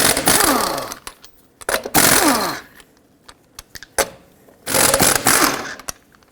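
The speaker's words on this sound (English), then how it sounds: "With a 19mm socket, remove all 5 of your lug nuts and then remove the wheel." An impact wrench with a 19mm socket removes the wheel lug nuts on a Dodge Grand Caravan, sounding as three loud, rattling bursts of hammering with short pauses and light clinks between them.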